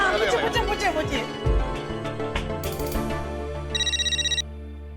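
Voices and background music give way to a telephone ringing, a rapid trilling ring that sounds briefly and then stops.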